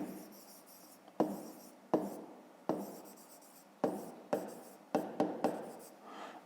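Close handwriting of a fifth-grade maths solution comes through as a series of short scratchy pen strokes, about nine in irregular rhythm, soft and near.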